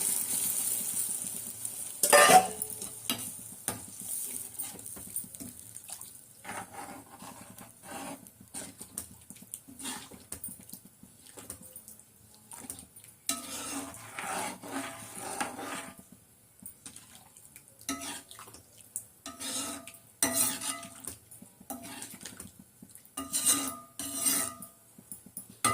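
Tamarind water poured into a sizzling pot of homemade kuzhambu and stirred, quiet hissing with intermittent scraping and clinking of a spoon against the pan, close but faint.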